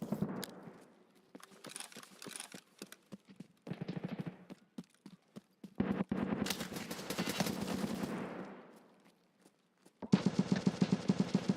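Gunfire in Escape from Tarkov, a first-person shooter: bursts of sharp shots come in clusters with short gaps, and a dense rapid volley closes the run, loud and close, with no talking over it.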